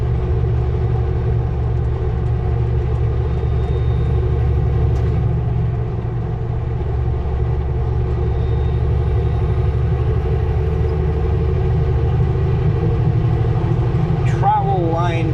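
A box truck rumbles past at close range, a heavy, steady engine drone that lasts throughout, with a voice talking over it near the end.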